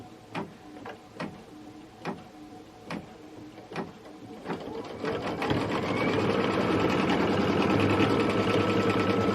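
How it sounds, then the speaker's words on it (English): Embroidery sewing machine stitching out a design for a Kimberbell Cup of Cheer project: a few spaced mechanical clunks, then a steady, fast, continuous stitching whir that stays up close and loud to the end. "So let's get that stitched out real quick."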